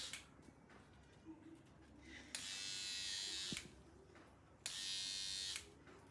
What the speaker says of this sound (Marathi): Electric brush. इसको चालू कैसे करेंगे